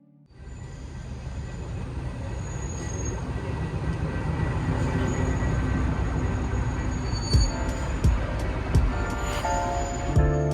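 A locomotive shunts at a station in Porto, its steady rumble building and holding, with wheel squeal and rail clicks near the end.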